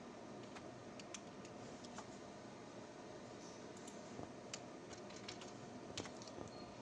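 Keystrokes on a computer keyboard while a print statement is typed into Python code, scattered light clicks with a few sharper taps over steady faint background noise, close and quiet, with no voice.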